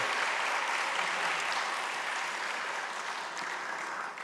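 Congregation at a Sunday church service applauding children who won gold medals; dense, even clapping from a large room, fading slightly at the end.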